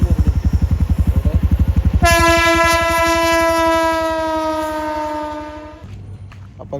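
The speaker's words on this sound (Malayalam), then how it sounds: "ട്രെയിന് വരുന്നുണ്ട് അവിടെ." Train passing near a college by a railway station: a heavy rhythmic clatter of wheels, then a long, loud sustained horn blast over the rumble for several seconds, ending abruptly as the train moves on.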